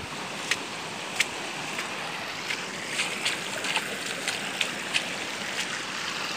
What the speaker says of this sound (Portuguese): E o corguinho aqui tá bufando de água.